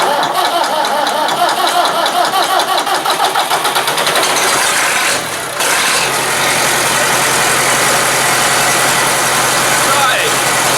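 A Massey Ferguson 690 tractor engine runs loud and close on heat start, with a steady, rough diesel clatter that briefly dips around the middle, then carries on strongly.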